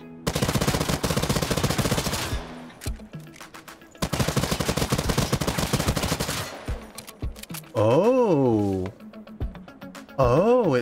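Mazikin guns firing in the video game Hawked, with two long, loud bursts of rapid automatic fire and dense repeated shots, followed by shorter bursts and a whooshing, rising-and-falling energy sound near the end.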